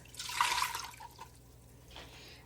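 Water for a no-apple pie filling is poured into a container in a home kitchen, a brief splashing burst at the start followed by a couple of softer trickles, close and fairly quiet.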